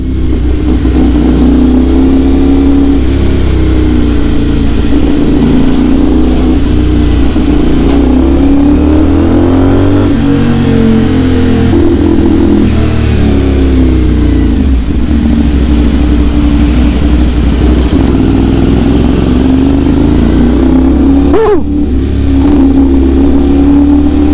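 A sports motorcycle with a slipper clutch revs continuously and loudly, its engine pitch rising and falling through the gears over a steady roar, with no talking.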